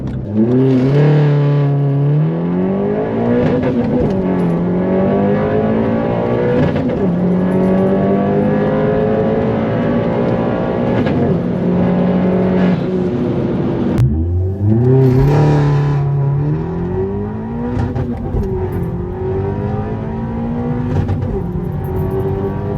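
A tuned Vauxhall Corsa VXR with a mapped exhaust and blow-off valve revs hard from inside the cabin, pitch sweeping up through repeated gear pulls, each shift broken by a brief whoosh before the loud engine climbs again.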